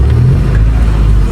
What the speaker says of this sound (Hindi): अभी हम गाड़ी चलाएगा ना इसको.